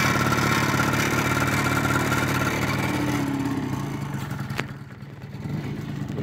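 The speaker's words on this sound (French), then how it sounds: "Et voilà, l'engin qui démarre" An 1988 Yamaha BW's scooter idles after starting, a steady buzzy engine drone close by that dips and softens near the end, with a brief click partway through.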